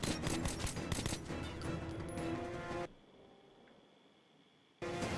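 Rapid automatic gunfire from blind firing in the shooter game Metro Last Light Redux, a dense loud burst of shots that cuts off abruptly, leaving a short quiet gap before the firing resumes.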